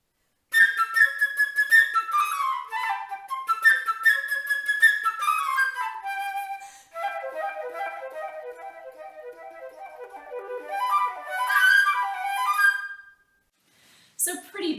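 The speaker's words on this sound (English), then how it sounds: "So I thought I would play one of my favorite bird-like excerpts for you today, which is from Peter and the Wolf by Sergei Prokofiev." Solo flute playing the bird-like excerpt from Prokofiev's Peter and the Wolf, quick trilling and rapidly leaping runs that settle into lower flowing phrases, played alone, close and clear, ending in a brief pause.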